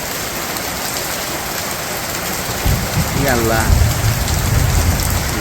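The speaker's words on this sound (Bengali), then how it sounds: "দেখেনি যে বৃষ্টিতে ঢল হয়ে বাড়ি বুঝাই হয়ে গেছে" Heavy rain falls during a storm in a Bangladeshi village, a dense, steady hiss of drops on surfaces throughout, loud and close, while someone briefly speaks partway through.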